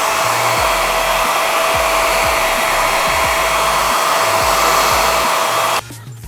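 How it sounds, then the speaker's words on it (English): A hair dryer blow-dries a water-colored wig with a loud, steady whoosh that runs without a break, then cuts off abruptly near the end. "Now I'm going to blow dry it."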